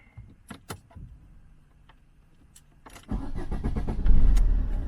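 A car engine cranks and fires up after a few clicks and small handling noises, then settles into a loud, steady idle close by, with no one speaking.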